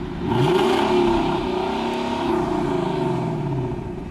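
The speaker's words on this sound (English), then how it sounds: "Zach, cue exhaust." A 2021 Lexus LC500 Performance Package sounds its exhaust in a sustained, loud rev, the engine roaring and wavering in pitch as the throttle rises and eases over several seconds, close to the car.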